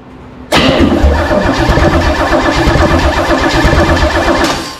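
An engine fitted with new Howard's hydraulic flat tappet lifters cranks and fires abruptly, then settles into a loud, steady, close idle for several seconds before easing slightly at the end.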